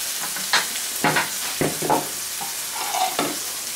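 Pieces of rabbit sizzle steadily in a hot pan while being cooked for arroz cortijero, a continuous crackling fry broken by repeated scraping and stirring clatters from a utensil.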